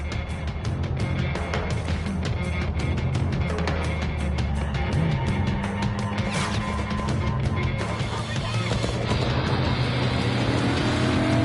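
A car engine revs hard and continuously during a chase, a dense roaring drone with rattles and bangs throughout and a rising pitch near the end.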